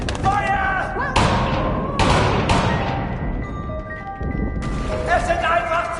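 A volley of rifle fire in the WWI game 11-11 Memories Retold: several sharp, loud bursts of shots spaced a second or so apart, cutting through a backdrop of tonal music and ambient battlefield noise.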